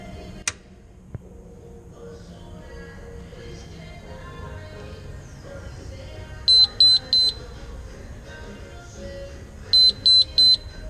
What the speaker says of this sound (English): Sometimes you got the alarm codes up here that'll beep.